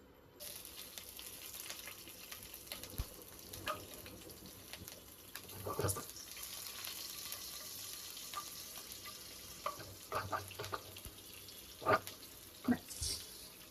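Cucumber frying in oil with nigella seeds and green chilli makes a faint, steady sizzle, broken by intermittent scrapes and clinks of stirring and some running-water sounds nearby.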